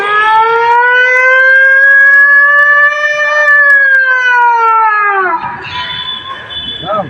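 A person's voice imitates a minister's car siren, a loud sustained wailing tone that rises and falls gently for several seconds, then trails off into a crowd murmur.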